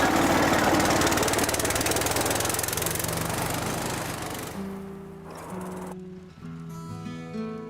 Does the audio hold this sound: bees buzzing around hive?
no